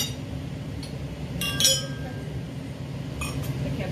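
Glasses clink in a toast at a family dinner at home, a couple of bright close chimes over a steady low hum of room noise and chatter.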